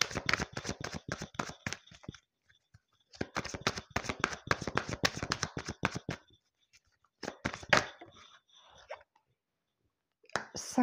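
Tarot cards shuffled and laid out by hand in bursts of rapid crisp riffling and flicking, with pauses between and a few single card snaps, close and fairly quiet, no talking.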